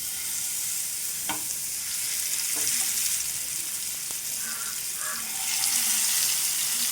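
Marinated tandoori chicken pieces frying in a pan over a medium flame, a loud steady hiss of hot oil with a few light clicks and shuffles, no voices.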